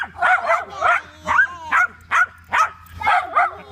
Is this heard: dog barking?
yes